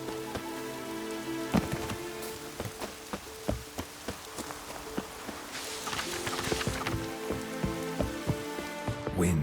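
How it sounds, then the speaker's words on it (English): Steady rain in The Witcher 3 game, pattering on surfaces with a continuous hiss and scattered sharper drops and taps, plus a few louder thuds, filling the whole stretch at a moderate level with no voices. "I love the rain."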